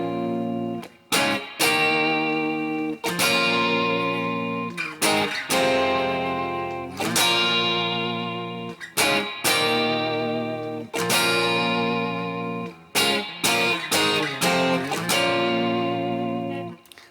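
An electric guitar run through reverb and effects plays the intro of a song, with punchy, sustained chords and notes broken by short gaps, loud and alone.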